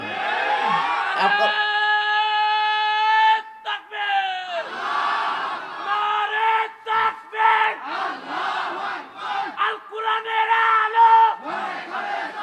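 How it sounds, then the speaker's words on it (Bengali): A large crowd at a Bangladeshi Islamic sermon gathering chants takbir in loud unison, sustained calls repeated several times with brief gaps between them. "এত ঘন ঘন তকবীর দেওয়া হবে না"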